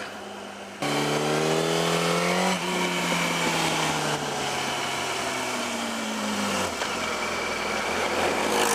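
Yamaha R1 sport motorcycle engine revving hard through gear changes after a clutch replacement, loud and close, its pitch climbing then dropping at each shift, running alone without talking.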